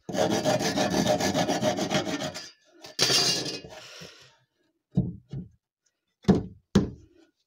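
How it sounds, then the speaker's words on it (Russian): A hand saw cuts wood for a homemade garden bench with a fast, steady run of rasping strokes, then a short second burst, followed by several separate knocks and taps of the wood, close and clear. "еще вот пилим, чтобы ровно стало, чтобы ровно было тут"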